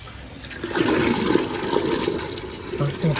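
Water pumps through a koi pond filter with a steady, close, rushing swirl, like a flushing churn, lasting throughout.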